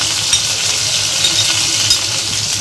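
Ginger paste and chopped tomato sizzle loudly in a hot pan while vegetarian moong dal is cooked, giving a dense, continuous frying hiss with a few stirring bumps and no talk.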